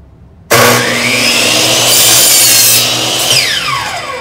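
Power saw ripping through wood in a workshop: a sudden loud whine kicks in and holds steady for several seconds as the blade cuts, then winds down slightly toward the end, close and alone.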